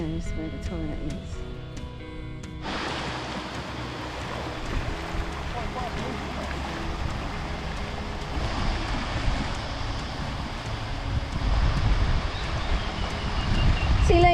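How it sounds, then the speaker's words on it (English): Steady broadband rush of flowing river water beside a campsite in Goulburn River National Park, outback NSW, continuous and fairly close with wind mixed in, swelling slightly louder toward the end. "You can hear the water."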